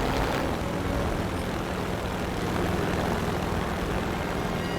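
An airplane engine from the War Thunder combat flight game drones steadily and loud, a dense continuous roar with no voices over it.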